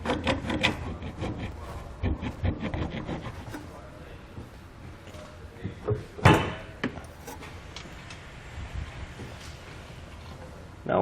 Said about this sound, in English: I'm just using the flat side of a pry bar to kind of remove some of that material.